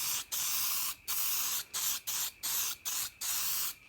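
Galvanizing silver spray paint coating a mower bed knife, nine short hissing bursts from an aerosol can in an uneven rhythm, close and fairly loud with brief gaps between sprays.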